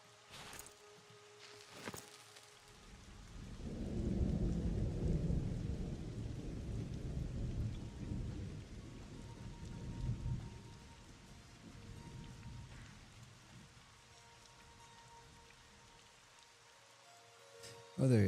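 Rain falls steadily in the video game Monsters & Memories while a long, deep rumble of thunder rolls in, swells for several seconds and fades, with faint talk at times.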